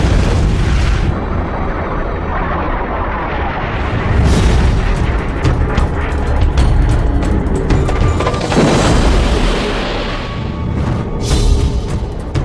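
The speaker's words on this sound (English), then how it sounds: "When the second missile flew up the tailpipe and it exploded" A Sidewinder missile exploding a MiG fighter jet: a loud, sustained, rolling boom with rumbling bursts and crackle that swell and fade across the whole stretch, with no speech.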